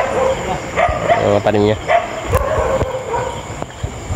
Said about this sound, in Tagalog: Kaya maraming aso rito.